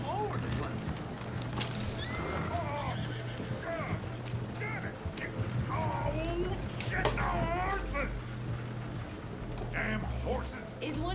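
Horses in the video game Red Dead Redemption 2 whinny repeatedly over rhythmic clip-clopping hooves, loud and close, while someone talks underneath.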